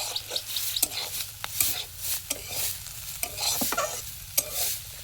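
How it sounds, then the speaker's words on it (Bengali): Vegetables frying in a pan are stirred with repeated close scraping strokes over a steady crackling sizzle, with no talking. "একটু নাড়ি আমি, আমি না নাড়লে হবে না, পুড়ে যাবান তো না নাড়লে"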